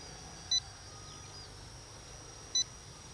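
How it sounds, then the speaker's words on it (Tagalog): A drone's low-battery warning gives two short, high electronic beeps about two seconds apart, clear against a quiet hiss, with no talking. "Oh, nagbi-beep na siya guys."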